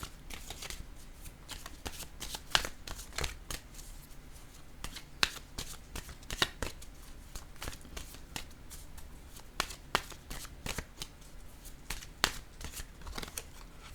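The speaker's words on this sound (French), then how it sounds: "Je vais maintenant piger une carte, un message de l'univers." Someone repeatedly shuffles a deck of cards, with crisp riffles and soft slapping taps in an uneven rhythm, then draws a card; close and moderately quiet, with no talking.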